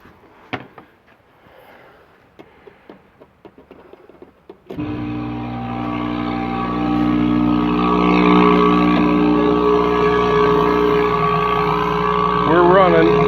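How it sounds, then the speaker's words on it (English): An aquarium air pump is plugged in to aerate a barrel of compost tea, and a steady, fairly loud electric hum starts partway through after a few soft handling clicks, then drones on unbroken. "as long as we make sure the air pump's running before we put it in the tea"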